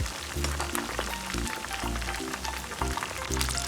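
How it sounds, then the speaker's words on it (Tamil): Chicken lollipops sizzle steadily in hot oil, a dense continuous crackle and spatter with a low rumbling hum underneath, close and fairly loud throughout. "நல்லா ஃப்ரை ஆகட்டும்."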